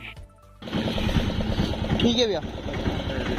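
Auto rickshaw engine idles with a steady rapid chugging rattle that starts abruptly after a brief quiet moment, close and loud, while someone speaks briefly over it.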